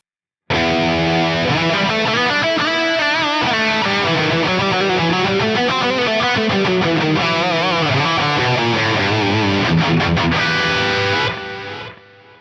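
An electric guitar runs through an Axe-Fx III preset with drive, delay and reverb, playing a sustained, distorted lead phrase loud and alone before the notes ring out and fade.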